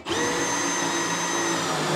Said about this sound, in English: So I've got a multi-diameter drill bit here, my underminer bit.